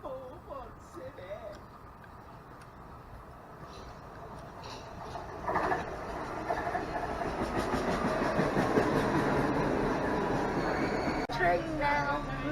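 A train rides on rails on a trip in New Jersey, its rumble and clatter rising from faint to steady and loud, with people talking over it.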